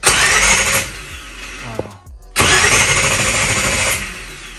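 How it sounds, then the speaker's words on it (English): A '66 Chevy Nova SS engine cranks over fast, loud and close, with a brief pause in the middle before the rapid whirring resumes; carburetors are in need of rebuilding. "That thing is spinning. That's what we want to hear, that fast spin."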